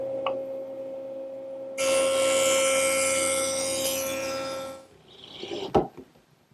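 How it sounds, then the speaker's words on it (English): A jointer smooths a saw cut on wood. Its motor hums steadily, and a loud, even cutting whoosh lasts about three seconds before the machine winds down, followed by a sharp knock. "The joiner does a nice job smoothing up the saw cut."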